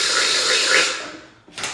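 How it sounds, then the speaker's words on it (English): An electric drill bores a quarter-inch hole during a fuse box relocation job, giving a close, hissing whir for just over a second, a short pause, then another brief burst. "I'm gonna go ahead and start drilling this hole right in the center"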